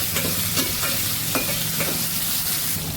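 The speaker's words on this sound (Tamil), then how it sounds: "தக்காளி தான் என்னமோ இப்போல்லாம் சரியாகவே வதங்க மாட்டேங்குது." Tomatoes sautéing in a pan, a loud steady sizzle with occasional scraping stirs of a spoon, close up.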